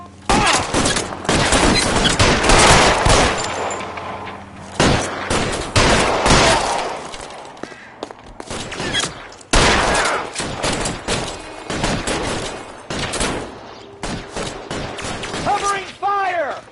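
Bursts of gunfire fill a shootout in the video game L.A. Noire, loud volleys of rapid shots repeating across the scene with short pauses between them.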